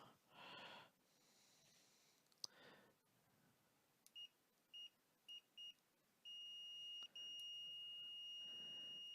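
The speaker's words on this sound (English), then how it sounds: "So multimeter back into continuity mode." A multimeter in continuity mode gives short electronic beeps in a quick series, then a longer sustained tone with a brief break, close and clear over faint shuffling while testing a PS4 Blu-ray drive board.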